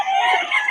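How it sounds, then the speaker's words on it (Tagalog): A rooster crows briefly and loudly nearby, a single harsh, strained call with no other sounds around it. "Solid ang manok nito ni Boss Albert."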